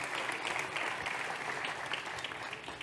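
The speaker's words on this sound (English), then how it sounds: "And see if he gets the same applause." Polite audience applause for a conference speaker at a transatlantic relations event: a continuous wash of many hands clapping at moderate, steady volume, heard somewhat distantly in a hall.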